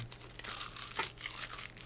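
Close crinkling and ripping of packing tape being pulled off cardboard in a few quick bursts.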